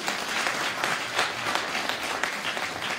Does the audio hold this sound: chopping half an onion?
no